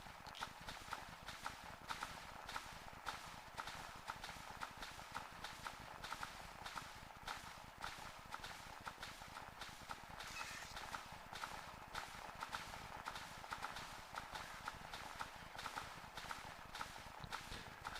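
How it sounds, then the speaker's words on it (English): Steady, evenly paced footsteps of Pyramid Head stalking in Silent Hill 2, a hard clip-clop rhythm repeating throughout at moderate level under a faint ambient bed, with no speech. "I'm guessing that's Pyramid Head stalking me back there. Like those footsteps that I'm hearing."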